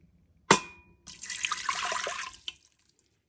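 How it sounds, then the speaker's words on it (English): A cup of water is poured into an Instant Pot with a trivet inside. A sharp clunk comes first, then a brief steady splashing pour, close by and alone. "I'm going to add a cup of water,"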